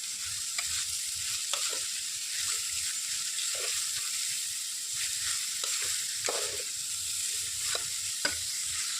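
Grated carrot for gajar halwa fries in ghee over medium flame, a continuous bright hiss with soft intermittent stirring scrapes and clicks, close and steady, with no talking.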